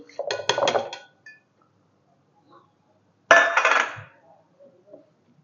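Mango pieces going into a steel mixer jar, two separate bursts of clattering metal and clinking, close and fairly loud, with near silence between them and no talking.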